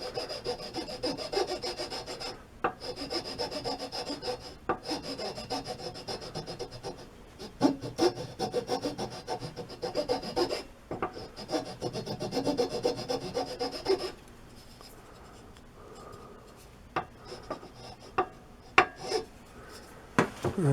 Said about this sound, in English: I'm going to use file.